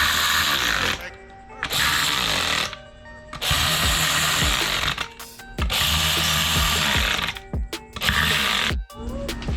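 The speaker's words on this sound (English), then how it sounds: "get yourself an electric ratchet or drill and you know," An electric ratchet or drill runs down the bolts on Method 405 15-inch beadlock rims for a Can-Am X3. It whirs and rattles in about five loud, close bursts separated by short pauses.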